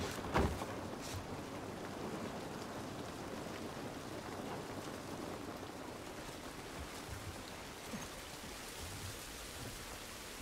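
Steady rain pours down in The Last of Us, a broadband hiss of drops on surfaces that holds constant from start to finish with no voices over it.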